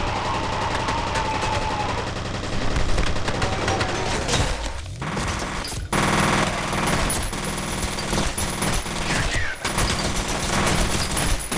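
Dense gunfire fills a firefight in F.E.A.R. Extraction Point, with rapid automatic bursts and sharp shots crackling continuously at close range, loud throughout with a few brief heavier impacts.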